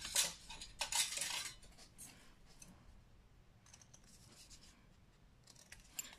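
Scissors cutting paper card while making a hexagonal greeting card on a craft mat: two sharp crisp snips at the start, then quieter faint rustling and a few light cuts, close and alone.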